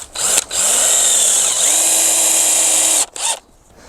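A power drill drives screws into wood while a garden trellis is built, several close, loud whirring bursts with the motor pitch rising and falling as each screw seats, separated by short pauses.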